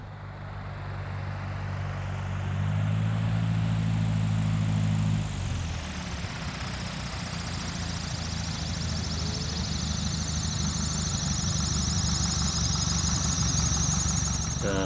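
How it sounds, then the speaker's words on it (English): A Cessna 170 tailwheel airplane engine drones steadily in flight with a low propeller hum, its pitch and tone shifting partway through as power changes, continuous throughout. "Now I'm flying a Cessna 170, also"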